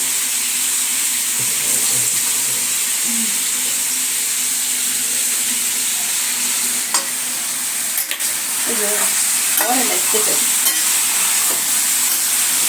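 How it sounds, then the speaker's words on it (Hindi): Chicken pieces sizzle and crackle steadily in hot oil, a close, continuous frying hiss with occasional stirring clinks and scrapes, and no talking. "चिकन हो रहा है तेल में फ्राई।"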